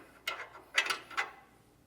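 A socket wrench ratchets a bolt while an anti-sway bar is fitted to a 2024 Entegra motorhome, three short clicking bursts heard close and fairly quiet.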